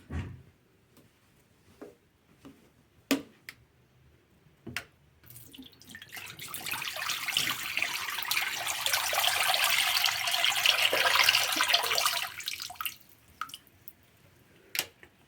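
Water drains from the water tank of a Hower clothes dryer with a steady, rushing splash that lasts several seconds. Scattered clicks and knocks of the tank being handled come before and after.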